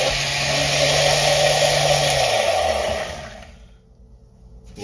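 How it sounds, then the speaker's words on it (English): Kitchen blender whirring steadily and loudly near the microphone, then winding down and fading out toward the end, no talk over it. "I like to get the blender moving before I put it in, so it's easy to clean up."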